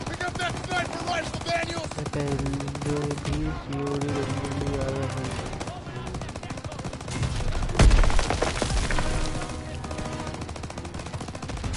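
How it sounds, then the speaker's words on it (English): Rapid gunfire and machine-gun bursts in the video game Call of Duty: World War 2, dense and continuous over a game music score, with a heavy explosive burst near the middle. "Everyone, open fire!"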